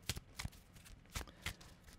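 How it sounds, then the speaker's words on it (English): A deck of playing cards is given a short shuffle, with four crisp riffling bursts in about two seconds, close and fairly quiet, with no voices. "giving it a little shuffle"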